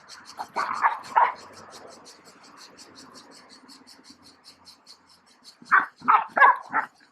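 A dog barks in two bursts, a few sharp barks early and another quick volley near the end, with quiet stretches between.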